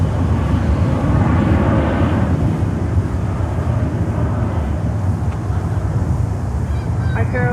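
An Iberia airliner's jet engines roar during a go-around at Miami airport, a loud, continuous, broad rumble heard from the ground with wind buffeting the microphone throughout.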